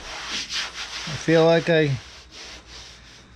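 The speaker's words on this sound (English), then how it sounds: "I'm gonna do another round of sanding on the roof." Hand sanding of body filler on the roof of a 1934 Ford Coupe, rhythmic rasping strokes repeating close up, with a person's voice speaking briefly over the scraping.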